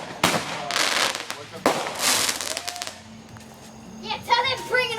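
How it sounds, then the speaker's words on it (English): Fireworks burst in a quick series of loud crackling bangs, some sharp and some rolling, heard from a little distance while people and children chatter and react nearby. "Is that legal fireworks?"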